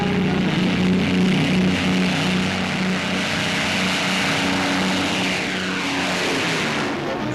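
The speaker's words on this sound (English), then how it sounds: "the enormous Blackburn Beverley Freighter, which can be used as troop or cargo carrier" Propeller engines of a Blackburn Beverley Freighter, a giant troop and cargo transport aircraft, drone loud and steady throughout with a strong low hum, the tone shifting slightly toward the end.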